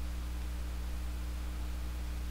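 Steady simulated noise passed through a low-pass filter hisses at low level with a constant low hum underneath and no voices.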